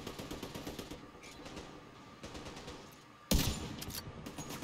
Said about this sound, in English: Just taking pot shots at everybody here.